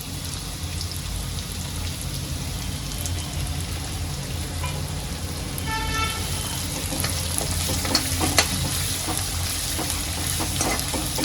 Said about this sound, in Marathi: आता या सर्वांना तेलामध्ये चांगलं थोडं लाल होईपर्यंत, कांद्याचा कच्चापणा निघून जाईपर्यंत चांगलं तळून घेते मी.